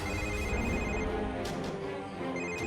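A mobile phone rings indoors with a loud, continuous electronic ringtone melody that plays close by without a break, and no talk is heard over it.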